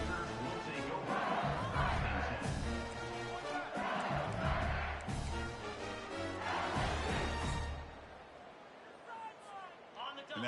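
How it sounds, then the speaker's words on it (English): Simulated home stadium crowd in the football video game College Football 25 roaring and cheering after an LSU blowout win over Alabama, a dense, loud, sustained swell of voices that eases somewhat near the end. "this home crowd ready to celebrate a very satisfying home victory"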